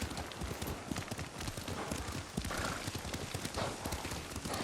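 Horse riding in Ghost of Tsushima, quick rhythmic hoofbeats at a steady gallop, close and prominent over a busy outdoor background.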